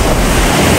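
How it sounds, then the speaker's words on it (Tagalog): Loud, steady roar of strong wind buffeting the microphone, a dense broadband rush with no break, as if gusting hard outdoors. "Lakas talaga ng hangin, no?"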